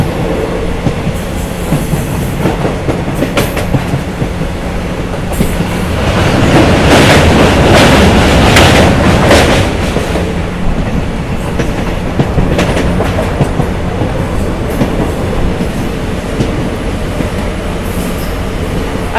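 Rail traffic on the route from Agartala toward Tripureswari temple in Tripura: a near train runs steadily throughout with clattering wheels and rumbling carriages, swelling louder midway, with no talk over it.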